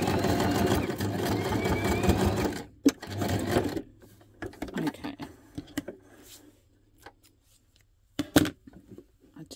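A sewing machine stitches tiny paper scraps together in a fast, close rattling burst, then stops; scattered clicks and short handling noises follow with brief gaps of quiet.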